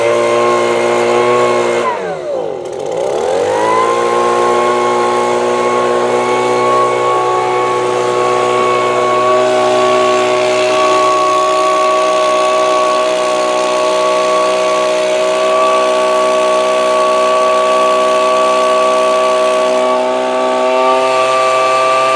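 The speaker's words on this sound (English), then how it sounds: "Shall we try the Leaf blower" A small engine-driven leaf blower runs up from a dip in speed to a steady, loud whine and drone, held close and constant for a long stretch, used outdoors to push air at a model boat.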